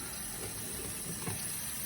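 Steady water running from a tap into a sink during a surgical-style hand scrub, a continuous close hiss and splash with no talking.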